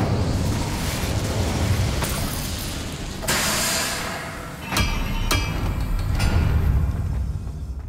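A fire spell cast in the video game Hogwarts Legacy: dense roaring, crackling bursts with sharp pops and booms over a constant rumble, several sudden flares across the span, loud and close with no talking.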